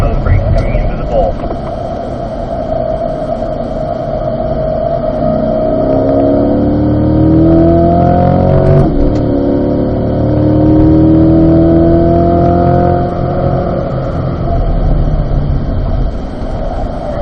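A Corvette on a race track brakes hard and then accelerates, its engine note falling and climbing in loud sweeping pitch changes while an instructor talks over it.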